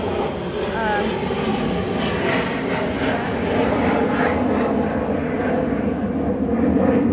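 An airplane passes overhead with a steady, loud engine roar that holds for the whole stretch, with a voice faintly present underneath.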